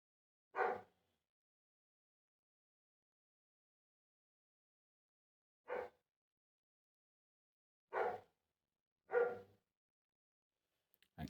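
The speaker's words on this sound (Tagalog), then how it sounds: "Ang ingay naman ng asong to mga katagbok" A dog barks close by in four short, loud, separate bursts spread across otherwise silent stretches, by a roadside.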